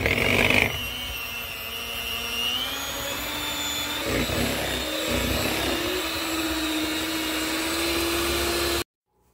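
An electric mixer whirs steadily as it blends vanilla into pumpkin roll filling, a loud, continuous motor drone with slight pitch shifts, stopping abruptly at the end.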